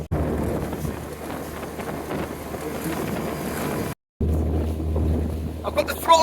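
An outboard motor on an inflatable boat runs at full throttle on Loch Etive, a loud steady drone mixed with wind buffeting, broken by a brief dropout.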